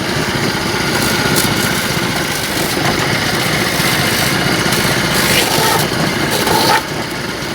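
A motorised cassava grinder runs continuously with a loud, steady engine drone, close by, holding an even level throughout with no break.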